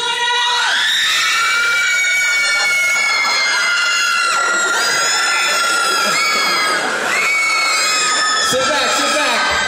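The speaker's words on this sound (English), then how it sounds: "Scream on the way down!" A stage audience under hypnosis at a hypnotist show at Radford University screams loudly and continuously as they ride an imagined roller coaster drop, a dense wall of high-pitched overlapping shrieks from many voices.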